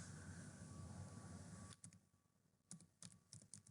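Brief bursts of computer keyboard typing, close and fairly quiet, follow a low steady fan-like hum that cuts off, with irregular clusters of keystrokes toward the end.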